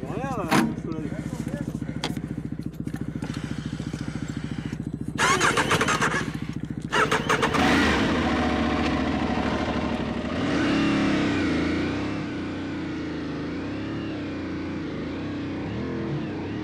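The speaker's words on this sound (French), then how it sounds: "Bon, une moto de montée." A motorcycle climbing uphill at a green rally, its engine buzzing loudly close by as it revs and passes, then fading away into the distance.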